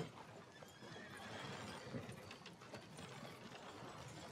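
Horses in the western video game Red Dead Redemption 2, a busy, continuous mix of neighing and clattering hooves with mechanical rattling, dense and fairly close throughout.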